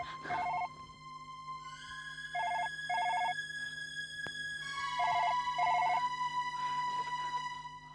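An electronic telephone ringtone rings in repeated short tonal bursts over a steady hum, several rings spaced evenly across the stretch, moderately quiet with no one talking.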